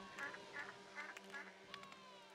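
Cartoonish duck quacks from the video game RollerCoaster Tycoon 3, several short nasal calls spread across a couple of seconds, faint against a steady game ambience.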